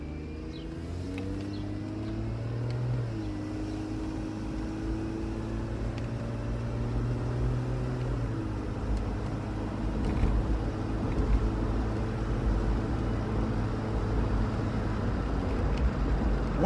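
A 2006 Chevrolet Trailblazer with an automatic transmission drives around the block, a steady engine drone and road rumble from inside the cab, with pitch steps as the gears shift up.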